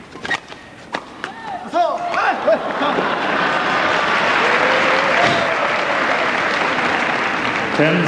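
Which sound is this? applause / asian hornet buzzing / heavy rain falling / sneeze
applause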